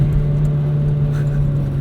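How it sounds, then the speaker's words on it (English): Inside a 2009 Chevrolet Cobalt SS fitted with an aftermarket intake, the engine holds a steady, loud low drone with a constant hum, heard alone without talk. "Did you get turbo noises as soon as you put the intake in?"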